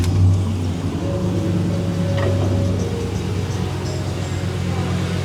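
A 2010 Ford F-150 with a fuel pump fault cranks and starts: a brief loud burst at the start, then an engine idling with a steady low rumble and faint ticking, close by and without speech.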